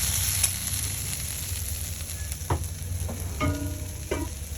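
Potatoes frying in a pan with a splash of light meat gravy, giving a steady close sizzle and hiss, with occasional scraping stirs and clinks of a utensil against the pan.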